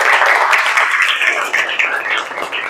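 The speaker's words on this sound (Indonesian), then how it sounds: "Boleh tepuk tangan semuanya dong." Short burst of classroom applause from students, dense clapping at close range that holds steady for a couple of seconds.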